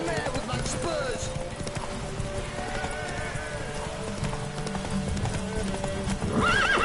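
A horse galloping in Witcher 3, rapid rhythmic hoofbeats clip-clopping with a sharp neigh near the end, while a voice speaks over the running gait.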